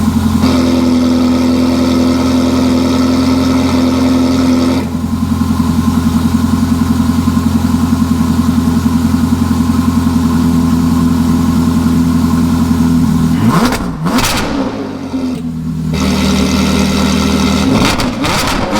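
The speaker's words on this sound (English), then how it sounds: "with the full Valvetronic titanium exhaust" A 2005 Ferrari F430 fitted with a full Valvetronic titanium exhaust idles loud and close with a deep, steady burble, then briefly revs up and drops back to idle near the end.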